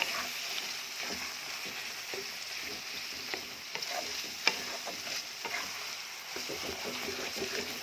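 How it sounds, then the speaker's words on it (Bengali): Stir-frying in a pan for a Bengali-style vorta, a dish being cooked down with salt and a pinch of sugar: a steady close sizzle runs throughout, with scraping spatula strokes and a few sharp clicks against the pan. "এবার এটা যতক্ষণ পারবো কষাবো"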